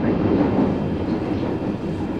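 A London Underground Northern Line train running, a loud, steady rumbling roar heard from close by with no voices over it.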